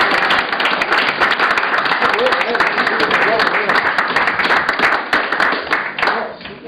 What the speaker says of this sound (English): you need to give yourself a round of applause